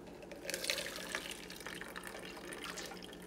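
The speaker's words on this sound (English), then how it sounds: "I'm going to strain the broth into these containers" Strained pork bone broth poured into restaurant-style containers, a soft close liquid trickle and splashing with faint drips, steady and quiet throughout.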